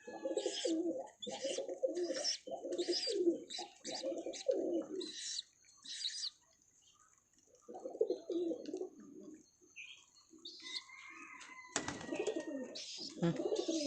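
Pet pigeons coo in repeated throaty bursts close by, joined by occasional chirps and tweets, with a brief lull midway before the cooing resumes.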